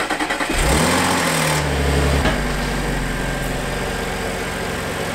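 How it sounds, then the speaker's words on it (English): Car engine starting with a few quick cranks, catching and revving up loudly, then settling into a steady nearby idle and drive rumble. "we're driving down to the rental property now"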